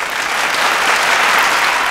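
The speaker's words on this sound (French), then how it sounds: "Ce compliment valait à l'orateur les applaudissements du public" An audience applauds a speaker after a speech at a gathering with a buffet, a dense, loud, steady patter of many clapping hands, with no talking.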